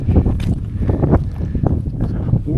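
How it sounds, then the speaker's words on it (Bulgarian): Wind gusting on a mountain trail toward Botev Peak, a close, rumbling buffet against the microphone that surges and fades continuously over a few seconds, with rustling and possible footsteps underneath. "Тук духа да го е."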